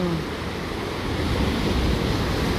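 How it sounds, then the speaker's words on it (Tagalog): Continuous rushing surf noise, a broad steady roar of rough sea waves close by, with wind buffeting the microphone throughout. "Nangangalit na mga dagat."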